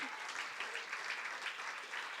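A church congregation at a Sunday service claps together as a clap offering, a soft, even wash of applause heard at a distance with no break.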